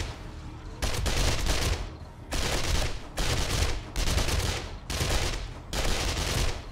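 A rapid-fire SMG fires in a zombie video game, six loud, sustained automatic bursts separated by short pauses.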